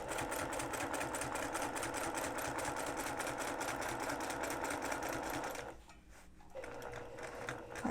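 A sewing machine stitches rapidly and rhythmically while free-motion quilting a quilt block, a loud close mechanical chatter that pauses briefly and then resumes.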